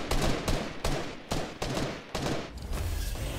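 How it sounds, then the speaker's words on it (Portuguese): Rapid bursts of video game gunfire fill a multiplayer shooter match, loud and close, with several sharp volleys and sustained automatic fire across the moment and no talking over it. "Eu vi alguma coisa atirando neles"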